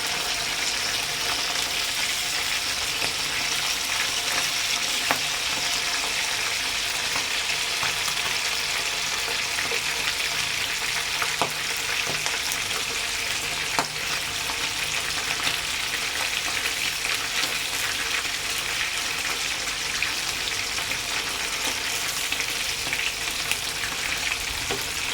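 Fish frying in a pan in a home kitchen, a steady dense sizzle and crackle of hot oil running throughout with occasional sharper pops, close and continuous with no talking.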